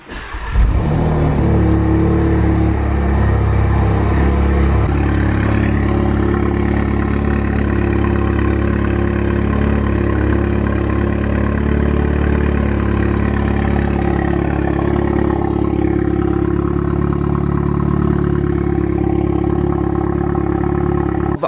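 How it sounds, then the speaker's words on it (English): A VW Golf R engine cranks and fires up with a sharp roar, then settles into a steady, loud, close idle that rumbles on for about twenty seconds with no voices. "So I'm going to go ahead and start the car up."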